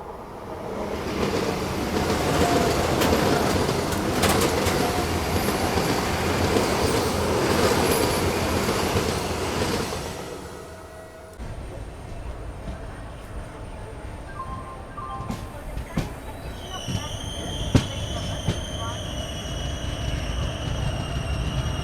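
A Vande Bharat Express on the Mangaluru–Madgaon route rushes past at a crossing, a loud sustained roar of wheels and wind for about ten seconds, then a quieter rumble of the stationary train with thin tonal whines and squeals.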